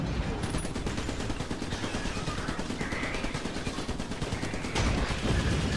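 Rapid, continuous gunfire from tube weapons in the video game Trenched, a dense unbroken stream of shots that swells louder near the end, with no talk over it.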